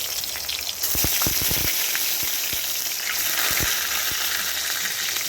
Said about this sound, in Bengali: এইভাবে ভেজে নিচ্ছি এই রকম করে ভেজে কিন্তু বেগুনগুলোকে আমি কড়াই থেকে এবারে তুলে নিচ্ছি